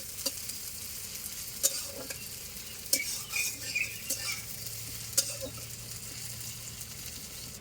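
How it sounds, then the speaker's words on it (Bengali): Chopped onions fry toward brown in a pan, a low, continuous sizzle broken by occasional sharp scrapes and clinks of a stirring utensil. No voices. "পেঁয়াজগুলো এবার লাল লাল করে ভেজে নেবো"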